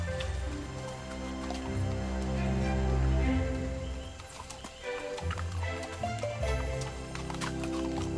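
Horse hooves clip-clopping in Costa Rica, faint irregular knocks under a busy mix of background music and ambient sound, with no talking.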